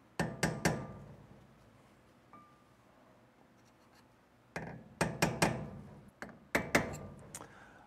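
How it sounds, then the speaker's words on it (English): A hammer drives a screwdriver around the lip of a wheel bearing cap during a drum-to-disc brake conversion. The taps are sharp, metallic and close, falling in short clusters of three or four with quiet gaps between them. "Take a hammer and a screwdriver and just slightly tap around the edge of the lip on the wheel bearing cap."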